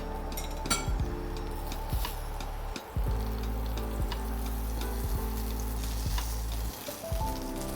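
Veg tacos fry in hot oil in a pan and get flipped, giving a steady close sizzle broken by light spatula clinks and taps.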